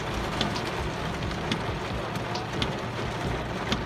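Heavy rain pours steadily around a car with its wipers running, a dense, loud, continuous hiss with scattered sharper drop taps throughout and no speech.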